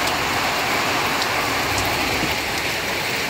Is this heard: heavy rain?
yes